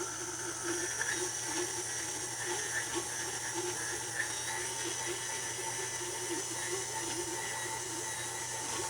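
Stand mixer kneading egg pasta dough on low speed: a steady, continuous motor whir with a faint rhythmic mechanical clatter, moderately loud and unbroken throughout.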